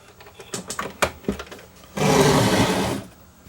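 On a Lloyds R849 turntable, a few clicks and knocks come first, then the drawer belt mechanism runs with a steady motorized whirring for about a second before stopping.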